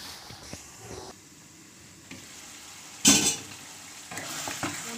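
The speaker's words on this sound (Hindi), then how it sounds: "अब मैं इसको थोड़ा सा मिक्स करके 2 से 3 मिनट को स्टर करेंगे" Masala keema is stirred in a pan, with a soft ongoing sizzle broken by scattered spatula scrapes and one louder metallic clatter against the pan, heard up close without speech.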